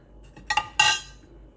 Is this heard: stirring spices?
yes